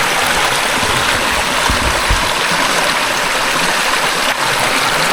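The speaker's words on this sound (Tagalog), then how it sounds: "Wow, tubig. Ganda." Flowing stream water rushes steadily and loudly nearby, a constant broad hiss and gurgle with no break.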